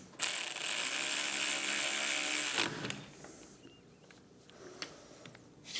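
Ratchet wrench clicking on handlebar clamp bolts of a 2024 Triumph Speed Twin 1200, a loud steady run of fast close clicks for about two and a half seconds, then quiet workshop room tone with a few faint taps.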